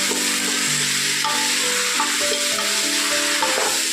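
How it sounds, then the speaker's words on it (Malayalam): Chicken peralan frying and being stirred in a pan, a steady sizzle with scraping spoon strokes throughout, close and fairly loud with no talking. "ഒരു 5 മിനിറ്റ് നേരം നമുക്കിതിങ്ങനെ ഒന്ന് ഇളക്കി കൊടുത്തുകൊണ്ടിരിക്കണം."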